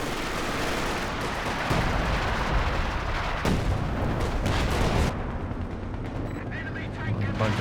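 Katyusha rocket artillery barrage in the World War II strategy game Company of Heroes 2, a dense rumbling wash of launches and distant explosions with heavy thuds, fading to quieter battle noise near the end.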